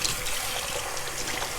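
Water running steadily from a tap while rinsing, a continuous close hiss and splash with no talk.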